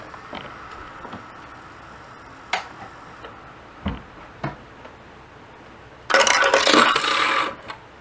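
A PC optical drive spins a disc and struggles to read it, giving scattered faint ticks and clicks, then a louder burst of rushing whir for about a second and a half near the end.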